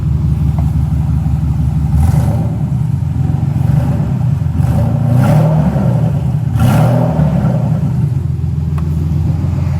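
Mercedes SL600 idling in reverse on a newly installed transmission that is low on fluid, a steady close engine rumble and whir with a few brief rises in revs, no talking.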